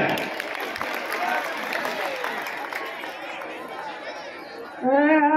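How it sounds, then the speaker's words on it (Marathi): Applause breaks out at a school annual gathering at Saraswati Vidyalaya in Telgaon, honouring a kirtan performer: a broad, steady wash of clapping mixed with crowd chatter, fading slightly before singing voices come in near the end. "टाळे महाराज, जोरदार महाराजांसाठी टाळ्या"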